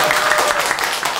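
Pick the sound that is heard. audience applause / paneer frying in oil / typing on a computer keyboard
audience applause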